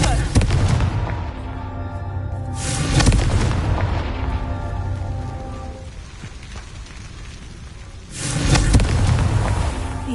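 Loud booming blasts of the Confringo fire spell in the Hogwarts Legacy video game, one burst early, a second around three seconds and another near the end, with rumbling decay between.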